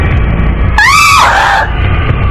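A woman's scream in a dubbed animated drama set in the woods, a single loud, piercing, rising-and-falling cry lasting under a second, alone against a low background hum.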